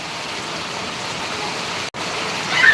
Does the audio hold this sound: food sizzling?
no